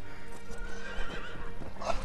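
Kage, a horse in the video game Ghost of Tsushima, lets out a loud, close whinny while hooves clop beneath it, with no talk over the sound.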